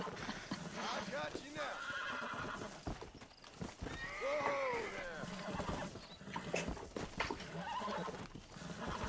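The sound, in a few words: horse in the video game Red Dead Redemption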